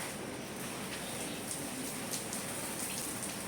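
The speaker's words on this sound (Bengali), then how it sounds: "জল দিয়ে এগুলোকে সব চান করাবো" Water splashing steadily over morning courtyard garden plants, a continuous close pouring rush with faint droplet patter and no talk.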